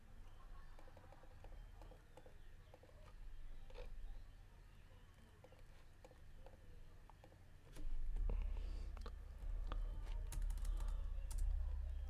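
Keys clatter on a computer keyboard as an IP address is entered, a sparse run of light, close taps that grows busier and louder toward the end over a low background hum.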